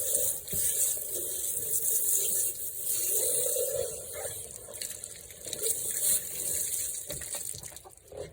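Water from a hose sprays steadily while rinsing out the cavity of a freshly processed chicken, a continuous hissing wash with small splashing variations and no talking.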